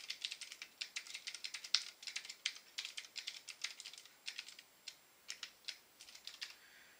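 Quick bursts of computer keyboard typing while Java code is entered, crisp clicky keystrokes in irregular clusters with short pauses, fairly close and alone without any voice.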